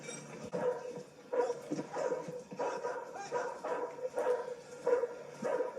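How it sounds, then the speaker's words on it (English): A dog in a TV crime drama episode barks and yips repeatedly in an uneven rhythm, with some whimpering, sounding moderately distant and somewhat muffled. "Is that the same dog from the beginning?"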